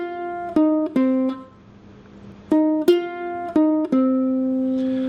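A blues riff picked on ukulele, bright plucked notes in two short phrases separated by a pause, each phrase a quick run of three or four notes ending on a held tone, played alone and close.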